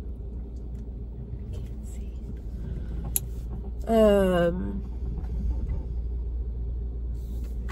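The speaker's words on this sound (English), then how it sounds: "And switching gear on that huge slope, my car like is not having it ever." A car engine in gear strains on a steep home driveway, a low steady rumble with a brief rising whine of revs partway through, while a person talks over it.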